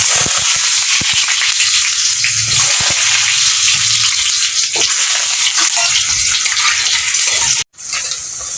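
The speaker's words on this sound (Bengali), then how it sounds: "তেল গরম হয়ে গেছে, এখন আমি দিয়ে দেবো এই আলুগুলোকে আমি ভেজে নেব।" Potatoes frying in hot mustard oil in a home kitchen, a steady loud hiss and crackle of sizzling that runs continuously, briefly cutting out near the end before resuming.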